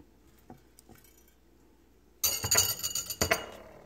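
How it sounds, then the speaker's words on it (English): Clinking and scraping as bean sprouts, green onion and shrimp are mixed together in a bowl for an omelette, a few faint taps and then a busy burst of close utensil-on-bowl clatter. "So I'm gonna mix all together like that"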